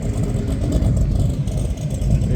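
A De Tomaso Pantera's engine revs at a supercar festival runway event. It makes a deep, rumbling, throaty roar at close range, with the pitch swelling and dipping as the throttle is worked.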